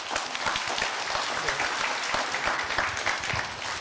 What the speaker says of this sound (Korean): 썬킴 선생님 다시 큰 박수 부탁드리겠습니다.